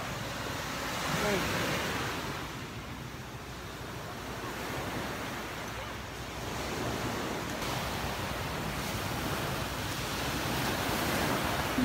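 Ocean surf at the seashore, a continuous broadband wash of waves that rises and falls slowly, with wind buffeting the microphone and no talk.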